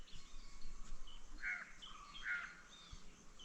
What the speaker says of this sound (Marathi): पाखरांचा कुठे कुठे आवाज येतो आहे